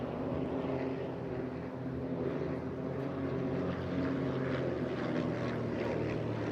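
A formation of four display aircraft returning for a Cyclone manoeuvre at the Eastbourne International Airshow, heard as a constant, moderately loud propeller-engine drone with a steady low hum and no break.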